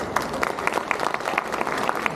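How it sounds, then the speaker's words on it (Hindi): Audience applause at a real estate event launching an overseas housing block, a steady wash of many hands clapping with scattered louder claps, sustained throughout at moderate loudness. "खुले दिल के साथ तालियां भी बजाएं"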